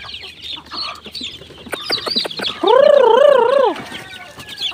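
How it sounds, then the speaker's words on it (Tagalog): Pet chicks being fed scattered feed peep and cluck in a lively, continuous stream, with one loud, wavering call standing out near the end over the busy background chatter. "tayo ngayon mga kaibigan ay magpapatuka na po ng ating mga alagang sisiw"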